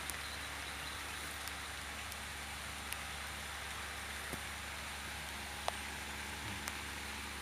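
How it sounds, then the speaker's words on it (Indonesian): Steady rain falls outdoors on a cloudy day near flooded water, an even hiss of rainfall with a few faint sharp drips and ticks scattered through it. "lagi hujan"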